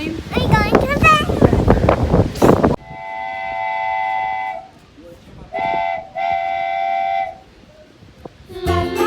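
On a train riding along the beach, people talk excitedly at first, then a loud sustained train whistle or horn sounds twice in long tonal blasts over rumbling, windy rail noise.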